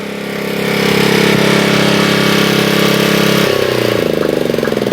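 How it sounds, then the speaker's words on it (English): A generator engine runs at a steady, loud drone for a few seconds after starting up, then its pitch drops and it sputters unevenly as it is switched off near the end. "So we are going to turn off the generator now."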